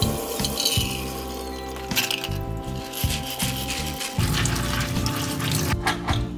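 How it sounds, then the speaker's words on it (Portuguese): Water from soaked beans pours and splashes as it drains into a sink, a continuous close rushing gurgle with shifting tone and no talk. "Vamos escorrer a água do feijão."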